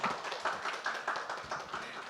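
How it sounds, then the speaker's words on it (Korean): Soft, steady clapping from an audience of parents at a school parent education session, welcoming a speaker to the front; even, continuous hand claps at a distance, fairly quiet. "박수로 맞이하겠습니다."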